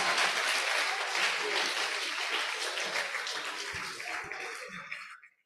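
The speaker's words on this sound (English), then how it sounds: "Please give him a round of applause." Audience applauding at a university health sector event, a dense patter of clapping that stays steady and then fades out near the end.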